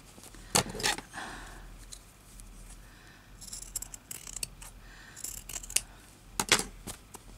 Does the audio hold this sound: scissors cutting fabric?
yes